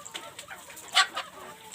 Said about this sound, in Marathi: ही आपली काल अंड्यांवर बसवलेली कोंबडी बघा